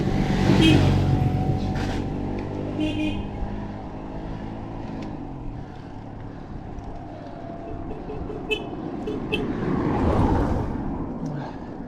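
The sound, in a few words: motorcycles riding past downhill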